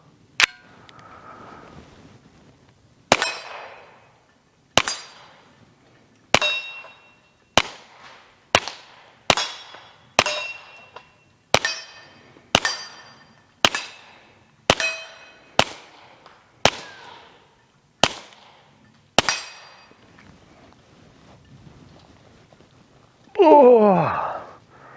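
Kel Tec P17 pistol firing Aguila subsonic .22 rounds outdoors, about fifteen sharp, loud reports in a steady string with short gaps, each cracking shot ringing briefly, followed by a short burst of voice at the end.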